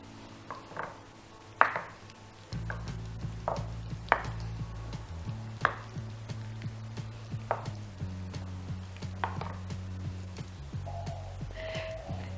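Crumbled tofu is stirred into a sauce with a utensil, giving soft irregular scrapes and clacks against the dish, fairly quiet and close, with no talk.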